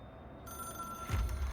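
A hotline telephone inside the Control video game rings with a bright, steady electronic tone that starts abruptly after a short quiet stretch, with a low thump near the end.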